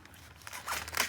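Scissors snip and crunch through the packaging of a parcel of cross-stitch supplies, a few faint, close cutting sounds that build toward the end.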